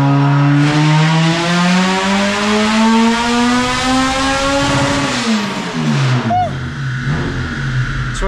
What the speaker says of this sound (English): K24 supercharged. Open header on the dyno.